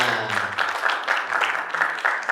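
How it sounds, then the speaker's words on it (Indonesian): Brief applause from an audience at a talk-show event, a short burst of clapping heard under and around a speaking voice. "Beri tepuk tangannya."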